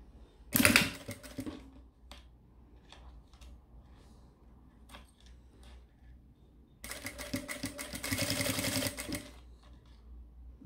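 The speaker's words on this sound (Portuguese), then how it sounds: "vou passar agora o pespontinho aqui dos dois lados da cordinha" A sewing machine topstitches along both sides of a fabric cord in two rapid whirring bursts, one short and one longer, with quiet handling clicks and rustles in between and no speech.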